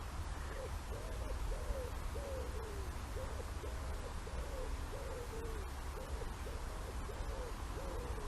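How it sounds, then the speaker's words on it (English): An owl hoots again and again in a steady, evenly spaced rhythm against a soft background hiss, sounding somewhat distant, with no voices. "There's the owl."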